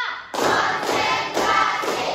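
A grade 8 class claps in unison, producing a short rhythmic series of firm, loud group claps spaced roughly evenly, heard up close.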